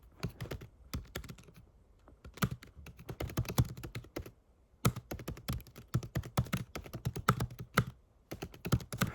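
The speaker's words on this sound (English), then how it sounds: "I love the sound of typing." Rapid keystrokes on a computer keyboard, close and clicky, coming in uneven bursts separated by short gaps, with no voices over them.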